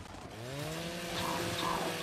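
Chainsaw revving in the video game Gears 5, a buzzing motor whose pitch climbs and holds steady, loud and alone for about two seconds.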